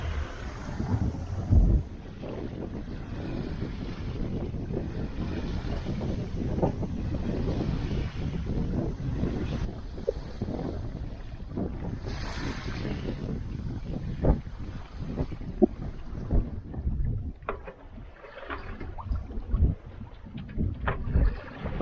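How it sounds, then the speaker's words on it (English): Strong wind roars steadily over the microphone aboard a sailboat at sea in the Gulf of California, with water rushing along the hull throughout, loud and continuous with gusty swells. "this stronger wind will make things a lot easier, so it's picking up as we speak."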